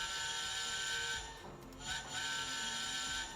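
A steady, tonal steam whistle from a model locomotive's DCC sound decoder, an A4 sound project, dipping briefly in the middle before resuming, with a faint mechanical hiss underneath.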